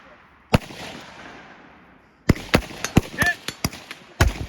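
Rifle shots at targets ring out as sharp, loud cracks: one single shot, a pause, then a rapid irregular string of about eight more shots. Faint voices sit under the firing.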